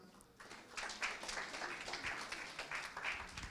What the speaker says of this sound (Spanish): Fuertes palmas para Gustavo Luján